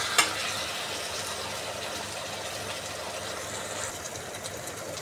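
Food fries in a covered pan with a steady, even sizzle that holds from start to finish, soft and close, with a brief clink near the beginning.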